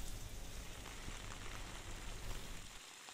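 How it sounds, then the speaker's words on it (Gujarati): Heavy rain falls with thunder and strong wind during a monsoon storm in Amreli, Gujarat, heard as a steady, dense hiss of drops on surfaces that fades out at the very end. "ગાજવીજ અને ભારે પવન સાથે વરસાદ વરસ્યો"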